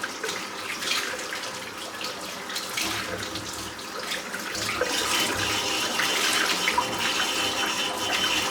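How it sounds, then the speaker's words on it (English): A shaving brush is rinsed under a steadily running tap, the water splashing continuously into a sink after a head shave with Uncle Jon's Cedar Lodge soap, loudest toward the end, with no talking. "I'm just going to clean the brush out."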